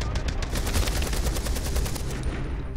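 Rapid gunfire sprayed from the hip in Beyond: Two Souls, a dense, loud stream of closely spaced shots that runs without a break for nearly three seconds.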